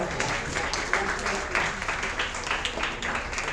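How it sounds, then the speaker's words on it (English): Steady applause from a crowd, a dense wash of many hands clapping at an even level throughout. "Huge round of applause."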